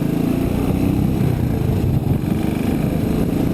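A 2019 Royal Enfield Classic 500 motorcycle engine produces a steady, close, low-pitched thumping rumble throughout while gears are shifted, with no distinct shift clunk standing out.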